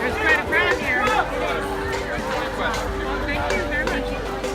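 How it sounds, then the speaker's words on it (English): Crowd noise at a Families Belong Together protest in Orlando, a steady hubbub of many overlapping voices and chatter, fairly loud and continuous, with nearer talk standing out from the general babble. "There's quite a crowd here"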